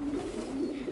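Homing pigeons and rollers coo in a low, continuous throaty warble inside a loft, close and steady through the short stretch with no talk over it.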